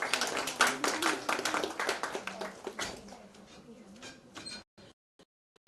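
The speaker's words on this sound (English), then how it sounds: "Please give a round of applause there." Award-ceremony audience at a space science olympiad claps in a dense burst of individual claps that gradually thin and fade, ending in a few scattered isolated claps near silence.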